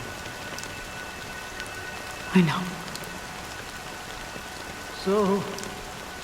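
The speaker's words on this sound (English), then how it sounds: "it's still raining." Steady rain patters on surfaces as a continuous hiss, with a voice speaking briefly twice over it.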